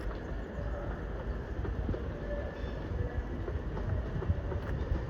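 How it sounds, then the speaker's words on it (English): An Avanti West Coast electric service bound for London Euston from Manchester Piccadilly passes through Crewe station on the West Coast Main Line, giving a steady, close rumble that swells slightly toward the end, with no talking. "Behind me is another Advance West Coast service to London Euston from Manchester"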